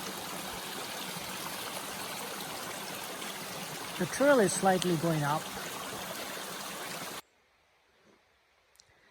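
A mountain stream runs beside Horns Pond Trail at about 2,300 feet on Mount Bigelow, Maine, giving a steady, close rush of water. Someone speaks over it before the sound cuts off abruptly near the end.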